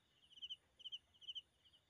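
Crickets chirp in three evenly spaced bursts of rapid pulses, a thin high trill against a quiet background at 2 a.m.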